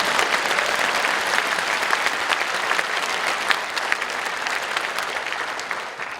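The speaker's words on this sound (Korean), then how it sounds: "박수하도록 하겠습니다" A church congregation applauds at a 50th-anniversary dedication service in Yongin, with steady, dense clapping from many hands that fills the room and tapers slightly toward the end.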